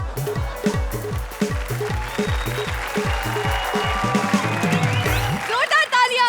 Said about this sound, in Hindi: जोरदार तालियां अब राजा के लिए।